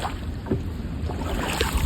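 Wooden rowing boat moving through water, with close splashing and lapping mixed with gusty wind noise over the microphone, brief and continuous.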